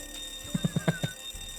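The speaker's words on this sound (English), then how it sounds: "Let's keep ringing the doorbell while we wait." A doorbell in the game Fallout: Tale of Two Wastelands rings as a rapid series of five short, evenly spaced tones, clear and alone, followed by quiet.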